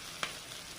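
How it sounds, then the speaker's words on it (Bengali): Green chilli and onion frying in a pan, a steady soft sizzle with one brief utensil tap near the start; no one speaks. "কাঁচা ঝাল আর পেঁয়াজ ভাজা হয়ে গেছে।"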